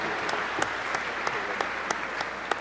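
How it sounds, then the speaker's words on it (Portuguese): An audience at a tribute to the mayor applauds in a dense, steady wash of clapping, with a few louder individual claps popping out at regular intervals. "Muito obrigado pelos aplausos"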